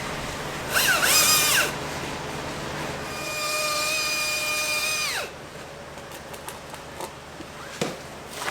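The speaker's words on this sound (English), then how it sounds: "He's got himself an electric chainsaw" An electric chainsaw cutting a tree during an urban tree removal gives a brief loud whine, then a longer steady high-pitched run that winds down, followed by scattered knocks and quieter activity.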